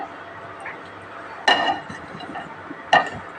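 A thick cauliflower curry batter with turmeric being mixed in a bowl, with two sharp, bright clinks of the utensil against the bowl over a faint, soft background.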